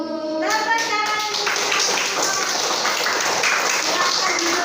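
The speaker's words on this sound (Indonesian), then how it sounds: "Tepuk tangan." A school class claps hands together in a classroom, a loud, brisk burst of many small hands clapping steadily, with children's voices briefly audible at the start.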